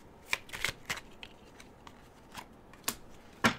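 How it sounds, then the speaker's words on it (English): Tarot cards are shuffled in a series of quiet, scattered riffles and snaps, close to the listener, with soft gaps between the strokes. "I'm going to shuffle these cards and I'm going to give you the answer."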